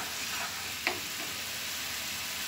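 A spice mixture being stirred and fried over very low heat in a pan for an easy snack, giving a steady, soft broadband sizzle throughout with one brief scrape of the spoon; no talking.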